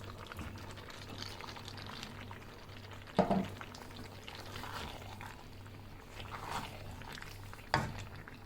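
Vegetables drop into hot oil with cooked chicken for a chicken jalfrezi, giving a steady low sizzle with two sharp clattering bursts of ingredients hitting the pan.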